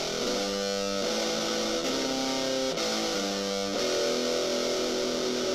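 Electric guitar played through a small Peavey Rockmaster amp with distortion, sustained chunky chords changing every second or so, loud and close with no talk.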